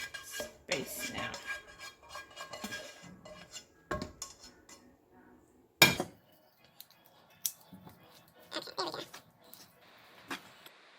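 Spaghetti noodles are stirred and tossed in a pan, with soft scraping and clattering of utensil against cookware, a few sharper clanks and quiet stretches between, heard close up.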